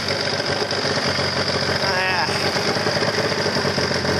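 A snowmobile engine with carbide-studded track and bogey wheels idles steadily, a continuous loud mechanical drone with the track running, while a person talks over it.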